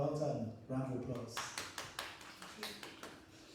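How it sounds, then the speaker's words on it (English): Lecture audience clapping in a Sunday talk gathering, a short burst of scattered claps following a voice, fairly close and moderate in loudness. "Round of applause"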